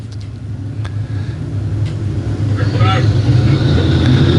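A dirt-track stock car roars on a racing oval at an I-35 race night with modified, vintage, pure stock and late model classes. The engine rumble swells steadily as it throttles up, under a loud announcer's commentary.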